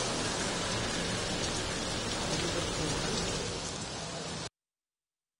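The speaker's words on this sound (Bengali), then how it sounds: "এর আগে গঙ্গাচড়া উপজেলায় হয় ঝড়ো বৃষ্টি" Stormy rain at Gangachara upazila in Rangpur, a dense steady roar of downpour with a gusty broadband rush that holds evenly, then cuts off abruptly near the end.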